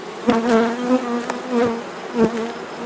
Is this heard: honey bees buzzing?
yes